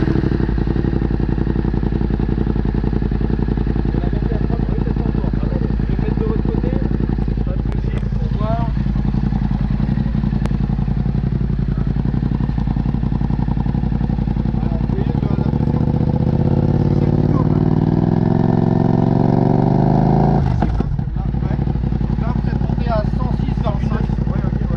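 A motorcycle engine cranks and fires into a loud clattering idle, revving up near the end before settling, with voices talking over it in a street confrontation with police.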